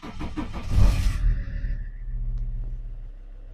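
A car engine cranks with a loud, rough burst, then settles into a low, steady idle hum that continues quietly on its own.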